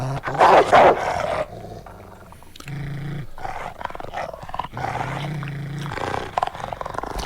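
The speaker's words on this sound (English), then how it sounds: "Malinois are such like awesome security protection dogs" A Belgian Malinois growls and roars in a tense movie scene, loud bursts of snarling near the start, then lower rumbling growls mixed with heavy film sound effects and score.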